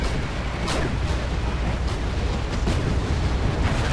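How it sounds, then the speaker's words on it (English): Mortar fire in the strategy game Wargame, a dense, continuous rumble of distant explosions with repeated muffled booms blending into a steady roar. "Look at all that mortar fire. He's got 6 mortar units"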